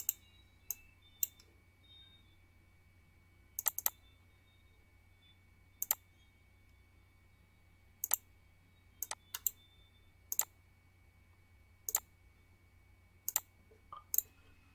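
Sharp computer mouse clicks sound about a dozen times at irregular intervals over a quiet room hum while an Excel chart is worked on, with no talking.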